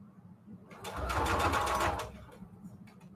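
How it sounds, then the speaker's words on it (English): Sewing machine stitching fabric strips into ruffles, a close mechanical whir that rises into a loud steady run for about a second, then drops back to faint low hum and clicks. "Just cut it up into strips, sew them into ruffles."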